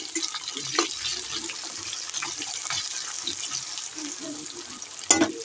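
Chopped onion frying in a pan, a continuous close sizzling hiss with soft stirring scrapes and a sharper knock near the end, fairly loud and steady, with no speech.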